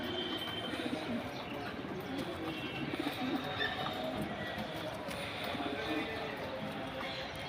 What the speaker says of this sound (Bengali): দেখার মতো কবুতর ভাইজান।